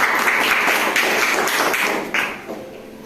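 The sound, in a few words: hands clapping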